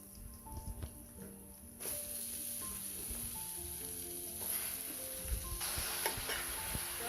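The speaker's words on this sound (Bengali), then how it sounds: "চিংড়ি শুটকিটা আমি এক মিনিটের মতো ভেজে নিচ্ছি এরপর এখানে আমি করলাগুলো দিয়ে দেব" Bitter gourd goes into a pan of hot oil with dried shrimp; the sizzle swells sharply louder as the pieces land and then hisses steadily, with faint tonal sounds in the background.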